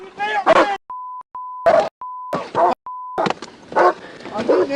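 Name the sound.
police K9 dog barking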